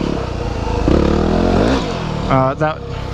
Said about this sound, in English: We're going to do a little wheelie over this.